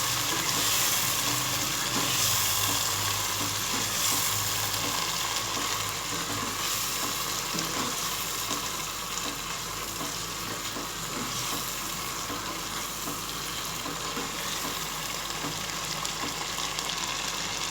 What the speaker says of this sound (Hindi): अब हम गोश्त डाल के भूनेंगे अच्छी तरह।